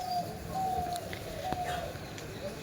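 Birds coo softly in the morning while waiting to be fed fried jhuri bhaja crumbs, with a few drawn-out calls over a steady outdoor hiss and no one speaking.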